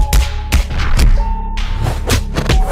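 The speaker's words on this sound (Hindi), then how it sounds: "आप आसमान में फूटते हुए पटाखों का मजा लीजिए" Firecrackers burst in the sky during a Dussehra celebration. A loud, steady run of booming thuds comes roughly every half second, with crackling and rumbling between the bangs.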